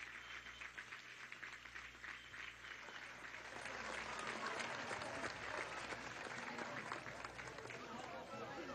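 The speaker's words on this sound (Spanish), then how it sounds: "un aplauso a estos músicos y a estas músicas" Large audience at a public ceremony bursting into sustained applause that swells and grows louder midway, dense clapping filling the space with crowd noise and voices mixed in.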